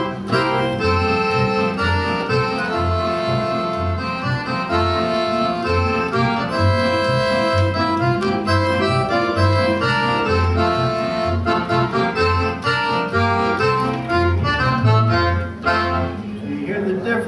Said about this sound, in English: I would come in and I would play a string bass.